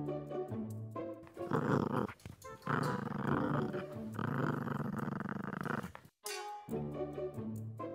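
A dog growls in a low, rough, sustained rumble with short breaks, loud and close, and it keeps going for several seconds.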